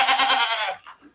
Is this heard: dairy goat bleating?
yes